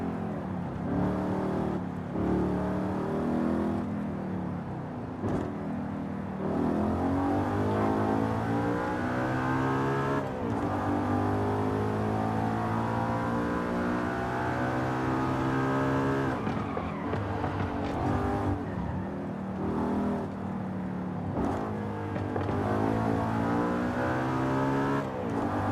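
In Forza Horizon 5, a 21-year-old car with a naturally aspirated V8, six-speed manual and all-wheel drive revs high through repeated rising gear pulls, with brief dips at shifts, a loud continuous racing engine note.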